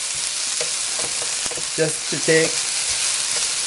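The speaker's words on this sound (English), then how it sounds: "Over here, I'm frying my onion with 1 oz vegetable oil," Onion frying in vegetable oil in a pan, giving a steady close sizzle throughout with a few light stirring scrapes and clinks.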